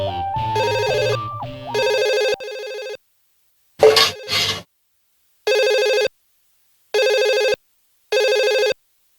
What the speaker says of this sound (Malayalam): ഫോണിന്റെ ബെല്ലടി കേട്ടാ ഞാൻ എണീറ്റ